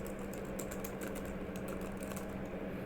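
Steady fingers typing on the soft keyboard of a Lenovo ThinkPad X230 laptop, a rapid run of light clicky keystrokes up close with no talking.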